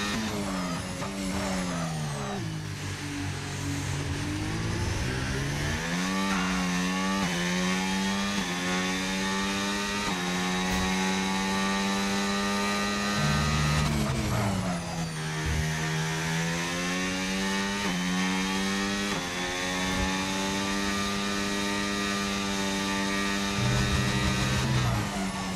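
A Formula 1 car at pre-season testing in Bahrain, its high-pitched engine whine climbing and dropping steadily through the gears, with a few sharp dips as it brakes and shifts. The sound is loud and continuous.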